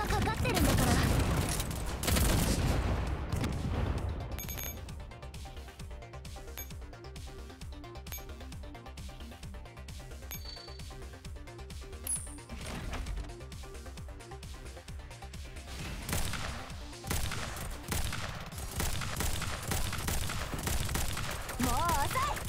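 Gunfire in the mobile game Girls Frontline, with loud bursts of shots at the start and end and quieter clinking, rattling firing effects in between, while a voice speaks over parts of it.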